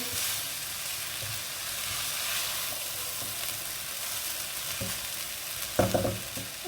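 Chicken fried rice ingredients being stir-fried in a pan, a continuous close sizzle with occasional scraping and clanking stirs, the loudest near the end.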